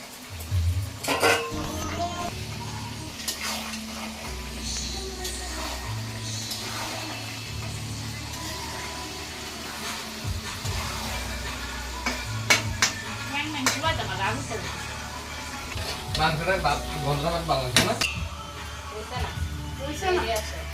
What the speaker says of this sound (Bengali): এখানে মাংসটা ভালো করে কষানো হইতেছে